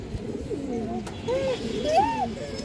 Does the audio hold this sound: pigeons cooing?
yes